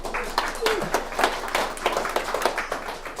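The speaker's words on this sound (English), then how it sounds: "Give her a big round of applause." Applause and clapping from an audience at a live motivational talk, a dense steady patter of hands filling the clip, with voices mixed in over the clapping.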